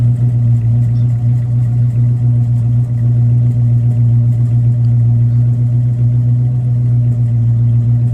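A big V8 car engine idling steadily with a deep, throaty rumble, loud and close, holding an even burble without revving.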